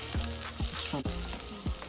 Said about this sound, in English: So I want to make sure the oil is sizzling